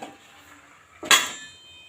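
A metal lid set onto a cooking pot of papaya chicken lands with a single sharp clang and a brief ringing decay after a quiet stretch of faint kitchen noise.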